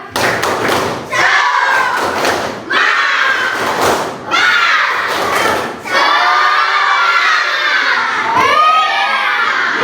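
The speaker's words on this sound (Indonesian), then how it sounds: "Tepuk semangat." Schoolchildren in an elementary school classroom clap and chant in rhythm together, loud and close, with bursts of clapping and shouted group voices repeating in a steady pattern.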